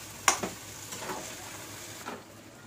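Mutton kosha stirring and frying in a pan: a few soft scraping clacks of a spoon against the pan, spaced out over a faint steady sizzle.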